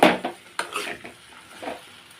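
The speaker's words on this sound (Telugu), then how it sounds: "ఇలా వేసేసుకున్నాక మొత్తం అంతా ఒకసారి ఇలా కలుపుకుందాం." Ingredients being mixed in a pan with a utensil, giving a few distinct clanks and scraping strokes close by, the strongest at the start and then softer stirring noises.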